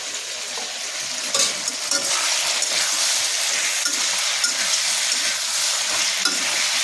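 Parboiled malabar spinach with vegetables frying in a kadai, a loud, dense hiss of sizzling oil with light stirring scrapes running continuously, and no speech.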